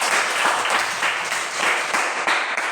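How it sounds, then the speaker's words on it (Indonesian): Students in a classroom give a round of applause, a steady patter of many hands clapping at moderate loudness with no speech over it. "Beri tepuk tangan"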